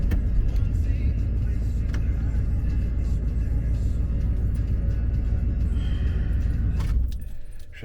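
A car engine idles with a steady, loud low rumble and a light jingle of keys, then cuts off near the end and the sound quickly fades out.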